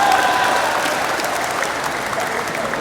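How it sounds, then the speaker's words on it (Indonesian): An audience at an Indonesian lecture applauds: dense, steady clapping from a crowd, close and fairly loud, holding evenly for a few seconds without speech. "Baru tepuk tangan setelah diterjemahkan."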